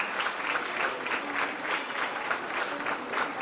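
A school audience at a grades 4–6 awards ceremony applauds, a dense, even wash of clapping that holds steady for a few seconds without speech.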